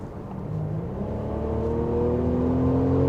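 Mercedes-Benz GLC Coupe 2020 in Sport mode giving a steady synthetic engine roar through the cabin rather than from the exhaust, a low droning hum with slowly rising tones, constant and moderately loud, no talk.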